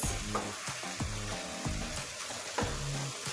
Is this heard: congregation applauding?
no